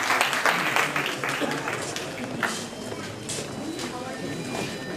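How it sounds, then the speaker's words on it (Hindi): Loud, dense audience applause welcoming a guest at a Pasmanda Muslim community gathering in a hotel, a steady wash of many hands clapping near and strong, with voices talking under it. "जोरदार तालियों से करें हमारे वालिद का स्वागत"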